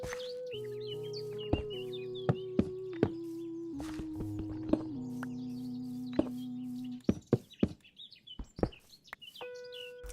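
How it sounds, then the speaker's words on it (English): Video game birds chirp in scattered bursts over a droning in-game tone and music, with clicks and knocks between the calls, all fairly faint. "Yeah, I heard so many birds."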